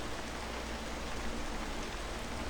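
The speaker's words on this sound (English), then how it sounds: "You just lay there, listening to the rain" Rain falls steadily around an abandoned watchtower in the woods, a soft, even hiss of drops on surfaces, continuous and fairly quiet with no voices.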